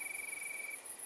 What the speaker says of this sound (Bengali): খুব কাছেই কোথাও ঝিঝি পোকার দল এক সুরে গেয়ে চলেছে।